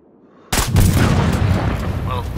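Explosive sniper round detonating in Sniper: Ghost Warrior 3, a single sudden loud boom after brief near-silence, followed by a long rumbling, crackling tail.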